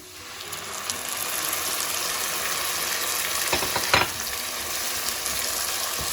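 A steady sizzle of tomato puree frying with onion and garlic paste in a hot pan for chole, with scraping stirring sounds and a small clatter partway through.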